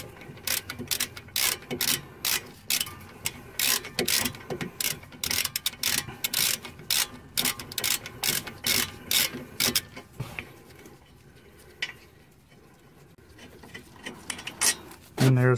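Hand ratchet clicking in rapid bursts while loosening front brake caliper bolts on a Toyota Corolla, repeated sharp ticking strokes close by, pausing near the end before a final short burst.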